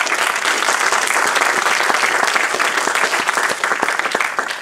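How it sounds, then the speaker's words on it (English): A church congregation claps during a sermon, a loud, dense and sustained burst of many hands with some individual claps standing out, running at steady strength throughout. "Clap your hands to it."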